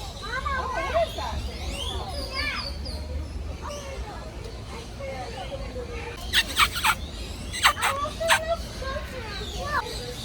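Birds gobble in turkey-like bursts during a Panama Canal cruise stop, with repeated sharp calls rising clearly over a busy background of people talking and children's voices.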